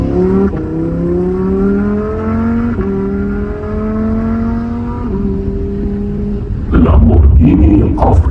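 A Lamborghini Huracán Sterrato accelerates hard, its engine climbing smoothly in pitch through several gear steps with brief dips at each shift, loud and close from inside the car, ending in a rougher roar.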